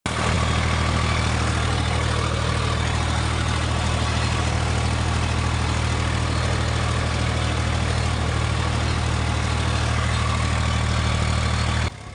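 A tractor engine runs steadily in a field while fertilizer is sown, a loud, continuous low drone with no break and no voices.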